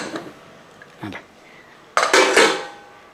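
A pressure cooker lid comes off amid metallic clatter of pots and utensils: two brief clinks early, then a louder burst of clanking and scraping that fades out.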